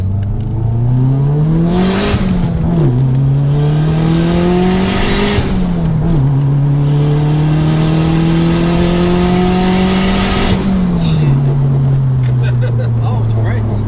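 A 500 bhp Toyota Celica GT-Four rally car with a screamer pipe revs hard and loud, its engine note climbing and dropping through several gear changes, with voices talking over it.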